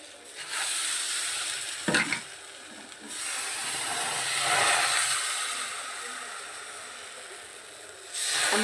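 Sweet rice-flour pithe, sweetened with date-palm jaggery, deep-fry in hot oil with a steady, loud hiss that swells and fades, broken by a sharp clatter near the start and a louder burst at the end.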